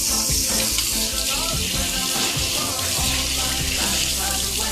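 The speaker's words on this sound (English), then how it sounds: "wash your hands. Not just washing with water, but actually soap." Hands being washed with soap under hot running tap water at a sink, a steady close hiss of flowing water with faint rubbing and splashing throughout, no voices.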